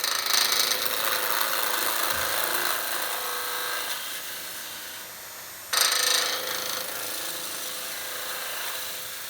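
A 3/4-inch skew chisel cutting a spinning wood spindle on a lathe, taking the square corners off to round it, giving a loud continuous rasping hiss that dips briefly and then surges back strongly.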